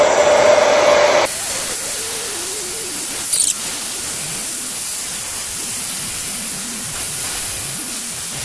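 A blow dryer runs steadily as a loud, close, continuous whoosh while melting wax on mini skis, the tone shifting slightly as the dryer moves along each ski.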